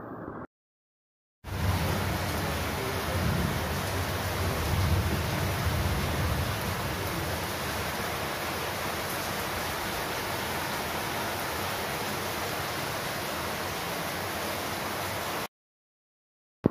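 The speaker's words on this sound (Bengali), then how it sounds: "বৃষ্টি হচ্ছে আর কি" Rain falls steadily as an even, close hiss that holds for about fourteen seconds between brief silent gaps at the start and end.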